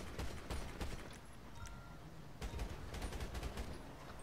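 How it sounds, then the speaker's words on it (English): Gunfire in the GTA 5 online video game, a run of repeated shots in bursts, loudest around the middle and end, mixed with game background noise. "let's see if we can shoot this thing off."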